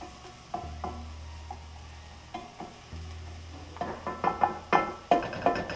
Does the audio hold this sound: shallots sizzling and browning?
yes